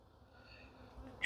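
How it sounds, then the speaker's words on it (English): Honeybees from a nuc hive with emerging brood make a faint, steady, low buzz that swells slightly, close by, with no talking. "I can see a lot of bees coming out"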